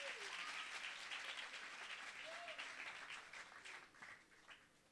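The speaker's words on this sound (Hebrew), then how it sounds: "מחיאות כפיים לכולכם הייתי נותן לפני הכל." Audience applause fills a concert hall after a Hebrew music show, dense steady clapping from a crowd that gradually thins and fades toward the end, with faint voices rising through it.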